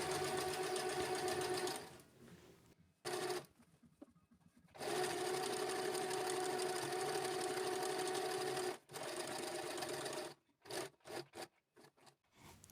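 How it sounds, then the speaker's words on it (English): An Empisal Expression sewing machine stitches fabric for gathering, running in long, loud buzzing stretches that stop and start, then break into short stuttering bursts near the end. "Okay, and then there we go, we start stitching."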